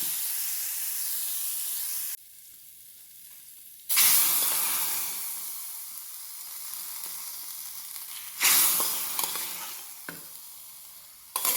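Spices crackle and sizzle sharply in hot oil for tempering mango pulissery, with two loud bursts as ingredients hit the pan, then a steady hiss that slowly fades.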